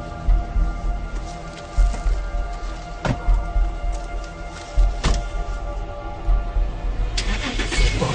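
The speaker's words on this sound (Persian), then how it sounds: "زود باش ماشین را به کار درآر زودتر" Car engine cranking and turning over in a tense police chase scene, with broadband engine noise throughout and sharp transient bursts, the motor catching and revving near the end.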